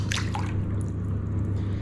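A foldable phone is lowered into bathtub water, giving a short splash and drip at the start, then a steady low hum of quiet bathroom background.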